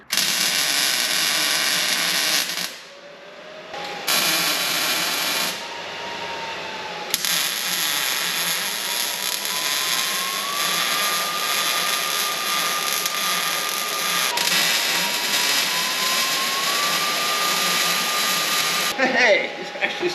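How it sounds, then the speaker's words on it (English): Welding along the edges of mini truck end caps, a loud, harsh, continuous buzzing hiss in long bursts broken by short pauses, close by, with a motor whine rising underneath. "let's see how badly we can screw up welding these edges all the way around here"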